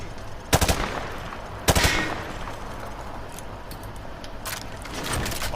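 Gunfire at targets in Call of Duty Modern Warfare 2: two loud bursts of rapid automatic fire early on, then scattered quieter shots and mechanical clicks.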